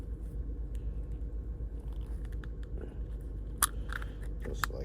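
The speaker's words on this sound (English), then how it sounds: "the small flathead screwdriver at an angle like this. We're going to split the remote in half" A small flathead screwdriver prying apart the plastic shell of a 2019 Jeep Compass key fob, giving a few sharp clicks and cracks late in the clip over a steady low hum.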